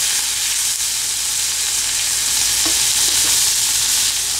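Onion sautés in a pan for Sri Lankan masi sambol, giving a loud, steady hissing sizzle close up, with a couple of faint utensil taps partway through.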